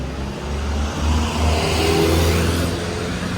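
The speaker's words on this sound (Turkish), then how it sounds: "Dolmuşlar buradan geçiyor." A dolmuş minibus passes along a city street in Bursa, its engine swelling into a close, loud rumble and rev before easing off, with no talking.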